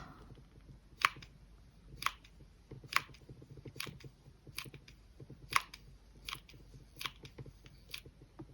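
Scissors trimming felt for brooch flowers, about ten crisp close snips at a fairly even rhythm, quiet between cuts.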